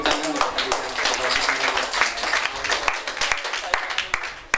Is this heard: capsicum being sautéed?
no